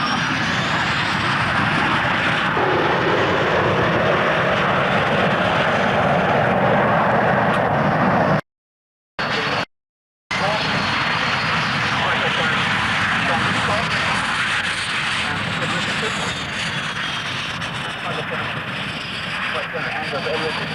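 A 29 Squadron formation roars past in a flypast at the RAF Coningsby airshow in 1992. The loud, sustained engine noise fills the clip, with two brief dropouts midway.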